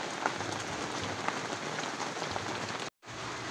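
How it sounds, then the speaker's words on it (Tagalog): Heavy rain pours steadily onto surfaces around a house, a constant hissing roar with scattered louder drops, cut by a brief moment of silence before resuming. "Sabi ko ay salamat umuulan."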